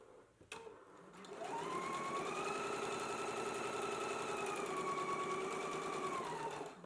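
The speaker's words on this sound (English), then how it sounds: "Let's go ahead and stitch it in place now." A sewing machine stitches fabric for a McCall's M8368/8369 garment, running as a steady, close mechanical whir for about six seconds after a brief start, with no talk.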